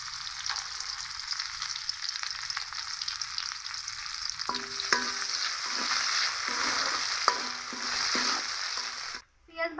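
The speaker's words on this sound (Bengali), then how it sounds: "দিয়ে দিব পেঁয়াজ কুচি, লবণ দিয়ে পেঁয়াজগুলো ভাজা ভাজা করে নিব" Chopped onions frying with salt in hot oil in a pan: a continuous loud sizzle, joined in the second half by repeated scraping and stirring strokes, then a brief drop at the end.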